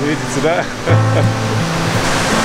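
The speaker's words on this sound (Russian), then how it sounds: "Вот это водопад." Cuban waterfall at Poceta de Cristal, a steady close broadband rush of falling water throughout, with people talking over it.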